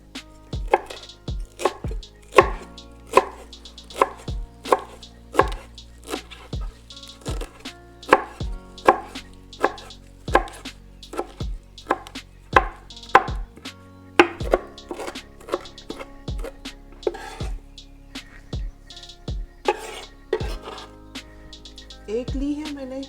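A knife chops fresh coriander on a board, a steady series of crisp, evenly spaced thuds that carries on for over twenty seconds with a few brief pauses.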